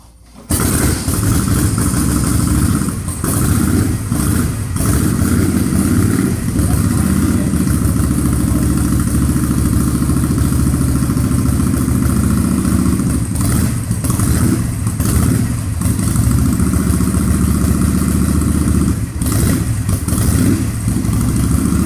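A Harley-Davidson Shovelhead bobber motorcycle engine starts abruptly, then runs at a loud, steady, close-up rumble for the rest of the clip, with slight fluctuations and no talk.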